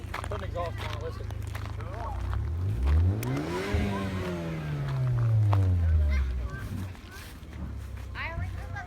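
A car with a newly fitted exhaust revs up, its engine note climbing and falling in a sweeping rise near the middle, outdoors, with people talking over it.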